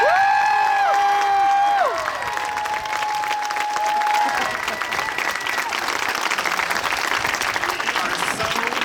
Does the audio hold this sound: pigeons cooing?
no